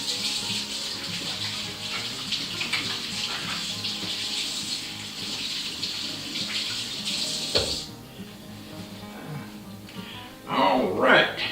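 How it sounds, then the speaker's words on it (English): Running tap water splashes steadily as hands are washed at a kitchen sink, a continuous broadband rush for about eight seconds that cuts off abruptly, followed by quiet room tone and a brief burst of handling sound near the end. "I'm going to wash my hands here"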